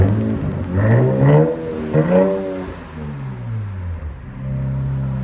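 A 2025 RAM 1500 with the 3.0L twin-turbo Hurricane inline-six and straight pipes gives a loud, close exhaust note. It rises in a few revving swells, then settles back into a deep, steady drone.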